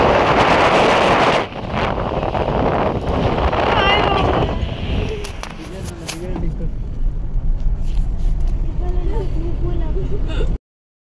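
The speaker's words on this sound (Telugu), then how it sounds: "ఎంత గాలి" Strong wind buffets the microphone during a ride in a new car with the top open, roaring loudly at first and then easing to a gusty rumble while people talk.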